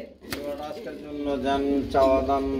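Pigeons coo at a pigeon farm, with soft, repeated throaty calls rising and falling close by across the whole stretch. A voice-like murmur runs alongside them.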